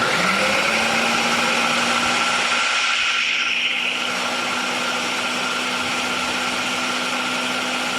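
A kitchen blender runs steadily at high speed, loud and continuous for the whole stretch, blending chocolate avocado pudding, with a small shift in pitch partway through.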